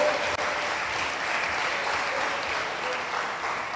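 A church congregation claps hands in praise to the Lord, a steady, loud wash of continuous applause with no break and no voice over it.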